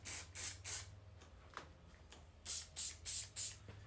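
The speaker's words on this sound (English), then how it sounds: "Just spray it on top." Short hissing bursts of aerosol hairspray onto hair, two quick blasts, a pause, then four more in a steady rhythm, close and fairly loud.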